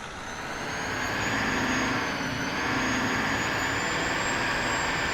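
In Farming Simulator 19, a loud modded truck engine drones in a steady, continuous roar with a high whine on top, heard alone without talk.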